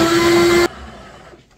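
An electric blender whirs loudly and steadily as it purées vegetables for a shrimp soup, then cuts off abruptly, leaving a quiet fading room tone.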